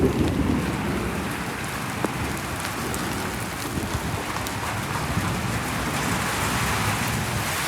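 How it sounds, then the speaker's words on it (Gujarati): Heavy unseasonal rain pours in a dense, continuous hiss close by, with a low rumble of thunder blended underneath. "આ વીજળીનો ગડગડાટ તમે જોઈ શકો છો"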